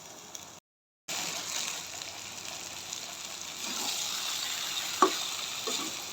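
Rice sautéed with meat in a pot for biryani, a soft steady frying hiss after a brief silent gap, with a few faint stirring knocks toward the end.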